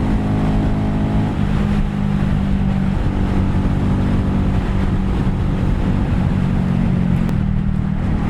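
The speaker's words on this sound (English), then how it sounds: "today I am riding around on my 2025 GROM, my little baby bike" A small 2025 Honda Grom motorcycle engine drones steadily while being ridden, close and constant, with its pitch shifting briefly as revs change and wind rushing underneath.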